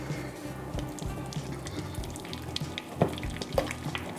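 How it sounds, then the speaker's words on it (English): Vegan butter and margarine being beaten until soft for herb and lemon shortbread, close rhythmic mixing thumps and scraping in a bowl, with no talk. "So I need to beat this until soft"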